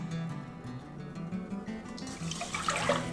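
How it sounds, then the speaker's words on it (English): Evaporated milk from a can pours into a casserole dish for a venison tater tot casserole, a soft, continuous glugging liquid stream that swells slightly louder near the end. "First things first, I'm going to put in a can of this evaporated milk."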